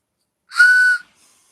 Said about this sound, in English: And there's the whistles